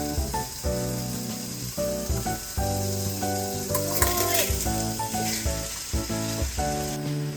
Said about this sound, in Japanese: あとは玉ねぎが少ししんなりするまで炒めていきます。